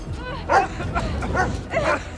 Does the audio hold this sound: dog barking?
yes